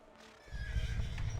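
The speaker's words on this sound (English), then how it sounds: "Horses are going crazy, folks." Horses neighing in a video game, a faint whinny rising over rumbling hoof clatter and low noise that grows louder partway through, with no talking.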